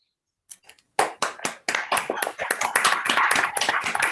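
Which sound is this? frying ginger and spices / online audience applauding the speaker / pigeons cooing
online audience applauding the speaker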